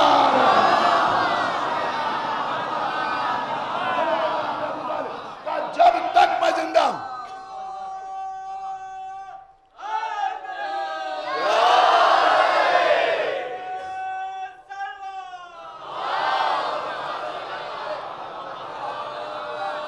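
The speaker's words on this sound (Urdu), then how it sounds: "اس امام باڑے میں اس طرح سے نعرہ حیدری بلند نہیں ہوتی" A crowd in an imambargah shouts the Nara-e-Haidari slogan in loud, unified bursts, several rising chants separated by brief pauses and a lone voice leading between them.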